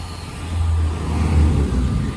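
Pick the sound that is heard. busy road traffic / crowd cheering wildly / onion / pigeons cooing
busy road traffic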